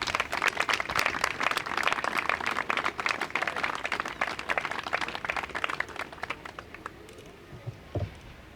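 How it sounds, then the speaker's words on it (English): Crowd applause for Governor Ned Lamont at a South Norwalk ribbon-cutting ceremony: dense, steady clapping for about seven seconds, thinning out toward the end with a few stray claps. "So let's give a resounding applause to our Governor"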